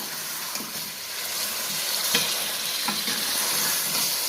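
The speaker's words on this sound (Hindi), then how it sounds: "अब इसको 1-2 मिनट के लिए जो है इसे भूनेंगे हम लहसुन अदरक में।" Beef pieces fry in a pan with garlic and ginger paste, giving a constant loud, close sizzle with occasional soft stirring scrapes throughout.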